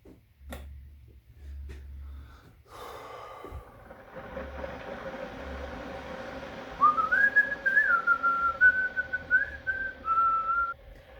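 Someone whistles a wandering melody with rising and falling notes, starting a few seconds in after some light clicks and knocks, over a faint hum.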